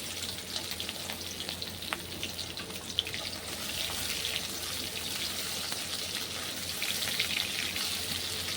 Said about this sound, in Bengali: দেখো যে চিংড়ি মাছটা আমি হলুদ মাখিয়ে নুন মাখিয়ে রেখেছিলাম, ওইটা এই তেলেই ভেজে নিচ্ছি